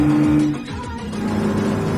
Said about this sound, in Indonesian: Mantap ya raungan mesinnya guys